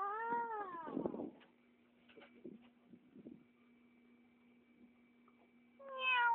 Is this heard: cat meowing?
yes